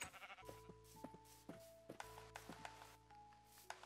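Sheep bleating in a farming video game, several repeated bleats in an irregular rhythm over game background sounds, fairly faint overall.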